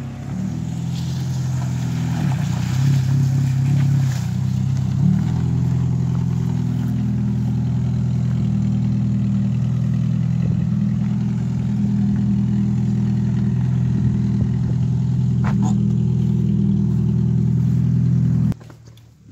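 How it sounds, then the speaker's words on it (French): A repaired car saved from the scrapyard idles steadily, a loud, even low engine rumble running close and unbroken for almost the whole stretch before cutting off abruptly at the end. "Elle marche impeccable maintenant, cette voiture."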